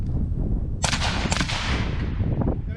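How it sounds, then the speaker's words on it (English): Real gunshots fired quickly at full speed: two or three sharp, loud reports in rapid succession near the middle, over a steady low rumbling background. "So full speed, I'll shoot it real quick."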